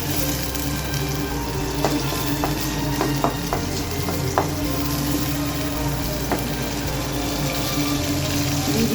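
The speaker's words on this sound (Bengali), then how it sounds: "ভাজি করবো, করলা ভাজি" Bitter gourd (karela) and chopped onion fry in a pan with a continuous close sizzle, broken by a few sharp clinks of stirring.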